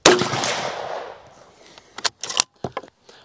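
A single sharp rifle shot, .308 Win or 6.5 Creedmoor, with a long rolling echo that fades, followed by a few faint clicks and clatters.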